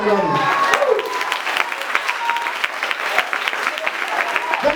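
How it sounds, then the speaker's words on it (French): A church congregation cheering and applauding, dense sustained clapping throughout with a few crowd voices, and a voice speaking briefly at the start. "Si tu dois acclamer, acclame."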